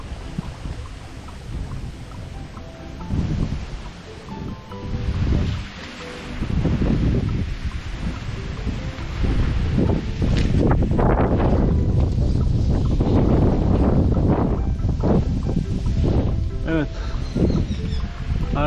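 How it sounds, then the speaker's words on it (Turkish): Strong, gusty wind roars through trees beside a river on a harsh winter day, with surging rustling of leaves and buffeting against the microphone, while someone talks at times. "Arkadaşlar hava çok sert ama benim sevdiğim havalar."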